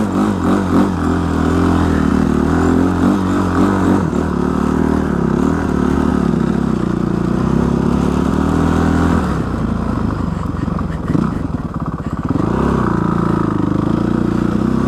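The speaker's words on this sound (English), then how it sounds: "You can see I'll go through some powder here." A Honda TRX 450R ATV ploughs through roughly 1.5 feet of powder snow, its engine droning loudly and steadily throughout with clatter and shifting revs, and no talk.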